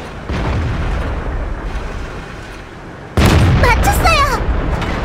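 A tank cannon shell from a Chinese WZ-132 light tank strikes an enemy in World of Tanks on the Airfield map, a sudden loud burst followed by crackling and whistling game effects over a steady engine rumble.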